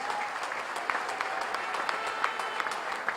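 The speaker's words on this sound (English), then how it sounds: "Please give them a round of applause." A crowd at a party election candidate presentation in Trinidad and Tobago claps steadily, a dense, sustained patter of many hands at moderate distance.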